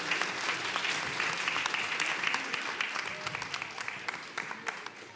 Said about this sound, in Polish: Wielkie brawa dla naszych sportowców.